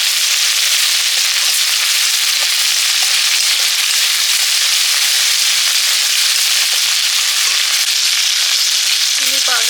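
Ginger and cumin paste frying in oil with turmeric in a pan, a steady loud hiss and crackle of sizzling that persists unbroken, with a few faint scraping stirs toward the end.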